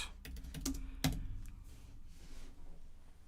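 Quiet, close keystrokes on a computer keyboard: a quick cluster of clicks with two sharper taps, then a few softer, sparse presses fading out.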